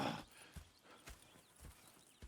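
Horses in Red Dead Redemption 2, hooves clip-clopping at a slow walk in a few spaced, fairly quiet thuds, with a brief whinny near the start.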